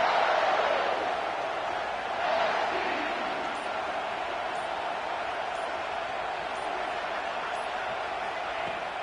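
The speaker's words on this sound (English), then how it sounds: "This crowd, full throat, splitting the eardrums" Stadium crowd roaring at an Indiana versus Washington college football game, a steady, distant wall of cheering that swells slightly early on and holds for the whole stretch, with an announcer speaking over it.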